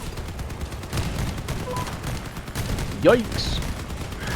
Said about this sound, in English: Tank guns.